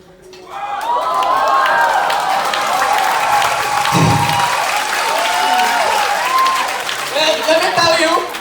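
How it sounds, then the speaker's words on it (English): An audience at a magic show claps and cheers for a performer, a sustained close burst of applause rising quickly and holding for several seconds before tapering off, with voices and whoops mixed in. "Please give Daryl a nice round of applause"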